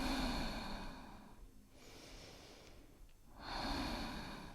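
A slow, audible breath during Ashtanga yoga practice, a long airy exhale fading out, a pause, then a deep inhale swelling back in, close and quiet with no talking.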